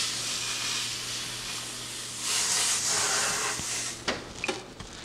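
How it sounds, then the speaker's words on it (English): Broad airy hissing from a spray bottle misting water over sourdough bread and its pan in several long bursts, followed by a few soft knocks and clicks. "I also spray my pan a little bit to get a little extra steam release around it"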